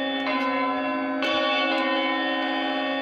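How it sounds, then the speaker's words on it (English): A large bourdon church bell at All Saints, Maidstone, rings with a deep, sustained resonant hum, struck again partway through so the rich overtones swell and linger. "the bourdon bell's over here"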